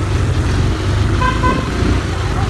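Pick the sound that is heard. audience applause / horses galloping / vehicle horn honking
vehicle horn honking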